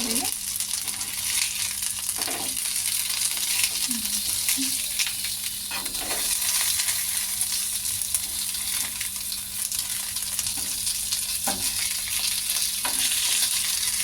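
Spicy masala-coated fish frying on a tawa, a constant loud sizzle with occasional stirring scrapes and spatula taps throughout.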